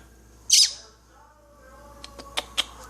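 An injured baby bird gives a sharp, loud squeak up close, followed by a few quicker, fainter high chirps in an otherwise quiet room.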